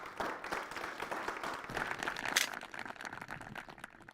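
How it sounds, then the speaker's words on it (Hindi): An audience at a farmers' question-and-answer event applauds a young farmer's winning answer, a steady wash of many hands clapping for about four seconds, moderately loud and fairly close, with no talking over it. "जोरदार तालियां बजाइए।"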